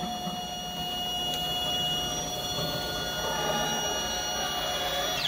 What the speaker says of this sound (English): when I run this, it should switch tools and start the job